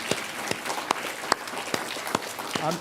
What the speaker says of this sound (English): we needed to give him a big round of applause